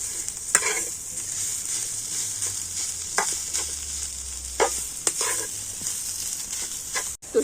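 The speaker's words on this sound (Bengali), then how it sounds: "সিদ্ধ আলুর সাথে সবজিগুলো কিন্তু খুব ভালোভাবে নাড়াচাড়া করে নেবো" Boiled potato and vegetables stirred in a pan for a stuffed snack, with steady frying hiss and scattered scraping clicks of the spoon against the pan, close and alone without talk.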